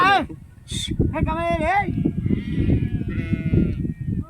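Sheep bleat several times in quick succession, close by, over wind rumble and people talking in the background.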